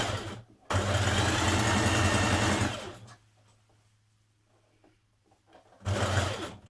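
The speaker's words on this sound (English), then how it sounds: "Top stitch neck and back 6mm from the finished edge." A sewing machine top stitching the neck and back of a sports bra: a loud, fast, close mechanical whirr for about two seconds, a pause with a faint low hum, then another short burst of stitching.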